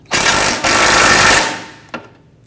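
A power tool drives a front control arm bolt tight on a 2011-2015 Kia Sorento, giving a loud close burst of rapid mechanical hammering for about a second, a brief break, another burst, then a short final tap.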